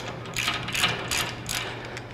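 Wrench ratcheting a nut loose on the end of a King bypass shock shaft, a run of quick metallic clicks in short bursts, close and moderately loud.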